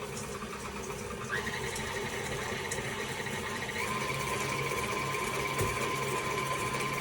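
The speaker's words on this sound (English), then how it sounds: "So we're gonna turn our mixer on. We're gonna get our sugars and our eggs combined." An electric mixer beats sugars and eggs together for banana muffins, giving a steady motor whine that holds and shifts slightly in pitch, close and continuous with no talking.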